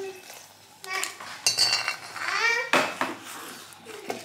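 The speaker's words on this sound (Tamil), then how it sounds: "இதை எடுத்து பிளேட்டில் மாற்றிக்கிடுவோம்" Roasted dried chillies are scraped from a pan onto a plate, with metal utensil clinks and scraping knocks close by, and some voices murmuring in the background.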